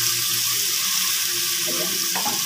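String beans sizzle in a hot pan for adobo, a loud, steady hiss of frying with a faint clatter near the end.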